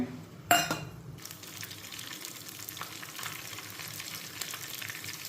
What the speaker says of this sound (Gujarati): તેને બરાબર ઓઇલની અંદર સોતે કરી લેવાનું છે